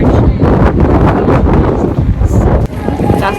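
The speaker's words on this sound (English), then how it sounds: "The wind is just blowing my hair all over." Strong outdoor wind in Japan, loud buffeting rumble across the microphone throughout, with a person talking underneath.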